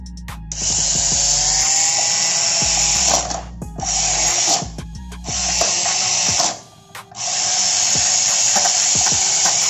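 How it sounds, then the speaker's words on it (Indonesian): A Tamiya Speed Naga dynamo motor spins on a speed checker with a steady, high-pitched electric whine that drops out and restarts a few times, up close and with no speech. "tes kecepatan dari dinamo Tamiya Speed Naga ini di speed checker kita"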